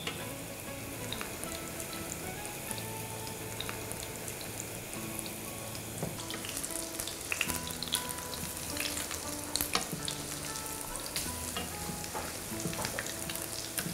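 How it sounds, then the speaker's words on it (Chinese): Coated meat fries in a shallow layer of oil in a flat pan over medium-low heat, a steady crackling sizzle that grows busier and more popping after a few seconds, with occasional light clinks, no talking. "开中小火慢慢去煎它"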